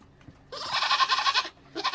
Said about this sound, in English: Peter Pan decided to bring his ladies in the goat shed